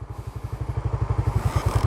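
A motorcycle on an off-road trail, its engine chugging in a quick, steady pulsing rhythm close by, loud and without speech.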